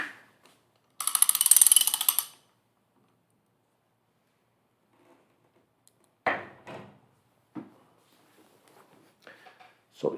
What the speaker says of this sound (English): So I'm going to tighten this bolt.